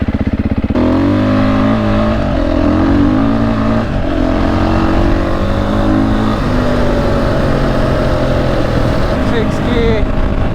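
A Beta 480 RR dirt bike engine pulls hard while riding in sixth gear at around 100 km/h, a loud continuous drone with steady harmonic tone shifting slightly as it accelerates, close and dominant throughout.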